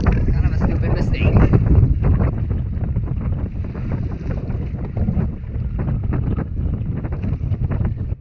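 Wind gusting against the microphone while paddling a boat on the Mississippi River, a constant heavy low rumble with fluttering bursts, loud and close throughout, with speech faintly present.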